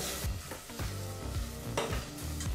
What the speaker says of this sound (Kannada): ಈಗ ಟೊಮೊಟೊ ಹಣ್ಣನ್ನು 2 ನಿಮಿಷ ಲೋ ಫ್ಲೇಮಲ್ಲೇ ಚೆನ್ನಾಗಿ ಫ್ರೈ ಮಾಡ್ಕೋಬೇಕಾಗತ್ತೆ